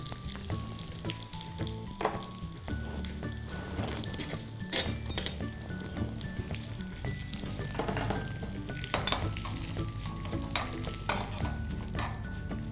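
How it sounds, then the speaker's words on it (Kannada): Mustard seeds, curry leaves and cashews crackle and sizzle in hot oil for a special mosranna tempering, a steady close frying hiss with scattered pops and occasional clinks of a pan and spoon throughout. "ಸಾಸಿವೆ ಚಿಟ್ಕೊಡ್ತಾ ಇದೆ."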